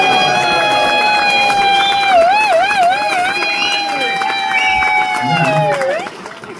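Crowd at a Reform UK political rally in Wakefield cheering and clapping, a loud continuous roar of voices and applause with whistles and shouts rising over it, fading near the end.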